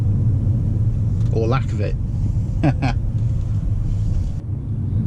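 A 2013 Mercedes C63 cruises down a motorway in comfort mode, its engine a low, steady drone under road rumble and wind noise, while someone speaks briefly over it.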